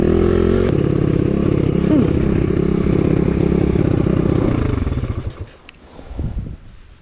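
A Yamaha 125 YZ two-stroke dirt bike engine drones loudly and close as the rider takes a turn, its note holding steady before backing off and dropping away near the end.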